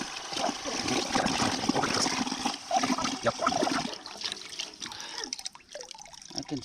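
Vinegar pours and splashes steadily out of a motorcycle fuel tank for several seconds, then tapers into trickles and drips near the end.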